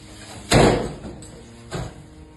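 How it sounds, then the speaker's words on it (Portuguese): A locked door being pulled and rattled, with one hard thudding jolt followed by a second weaker bang about a second later, close and loud. "É tanto puxar da porta, não posso entrar!"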